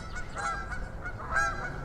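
Geese honk loudly and close by, two strong calls about a second apart over a low outdoor background, with no talking.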